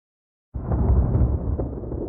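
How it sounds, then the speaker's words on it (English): A deep rumble of thunder that bursts in after half a second of silence and rolls on steadily and loudly to the end, with no one talking. "Did you hear that noise? Yes, I did. I think it was thunder."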